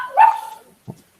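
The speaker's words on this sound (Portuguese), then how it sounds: "Ah, você tem cachorro também." A dog barks and whimpers, wanting to be let into a room: one loud, close yelping bark followed by a short, lower whine after a brief pause.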